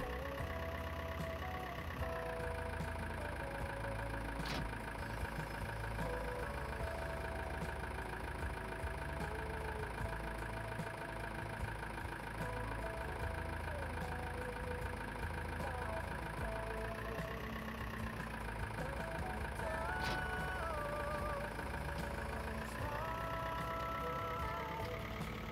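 Tractor engine idling in Farming Simulator 19, a steady mid-low mechanical rumble with a faint rhythmic knock, holding an even level throughout with no talk over it.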